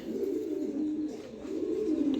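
A young pair of blue pigeons coos nearby in a steady, low, throaty rolling call that swells and repeats across the stretch, with no talking over it.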